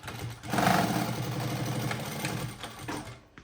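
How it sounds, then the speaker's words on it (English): A Jack H2 direct-drive walking foot industrial lockstitch sewing machine runs steadily at close range, a continuous mechanical whir with rapid needle rhythm that eases and briefly dips before trailing off at the end. "We will now give you a short demonstration of how the machine sews."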